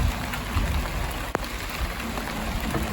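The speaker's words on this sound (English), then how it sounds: "Every time I start work it rains." Steady rain patters on surfaces outdoors, a dense continuous hiss with occasional distinct drips and one sharp knock, no voices.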